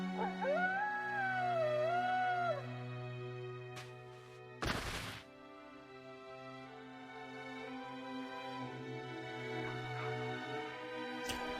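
Dogs in NieR: Replicant let out a long, wavering howl over a soft game soundtrack. A sharp burst follows, then the music carries on alone.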